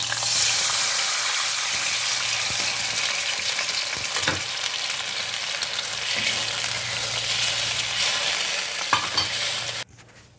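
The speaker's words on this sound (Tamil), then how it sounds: "இதுக்கப்புறம் நான் கரைச்சி வச்சுருக்க புளி தண்ணி ஆட் பண்ணிக்கிறேன்." Tamarind water poured into a pan of frying onion, green chili and curry leaves for rasam, setting off a loud, steady sizzle and bubbling that runs on without a break and cuts off sharply at the end.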